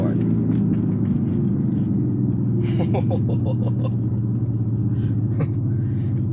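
A deep, steady BMW i8 engine rumble, partly played through the car's speakers, runs throughout at close range, with a few brief chirps and clicks over it partway through.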